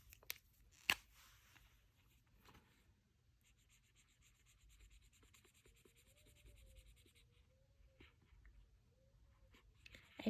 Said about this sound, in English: So we'll color these pencils.